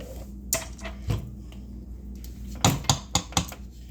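Pizzelle batter is beaten in a bowl, soft mixing sounds broken by a quick run of sharp utensil taps against the bowl near the end, close and moderately loud.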